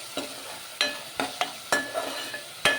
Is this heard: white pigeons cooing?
no